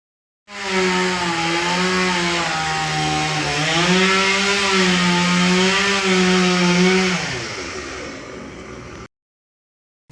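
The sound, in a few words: chainsaw cutting firewood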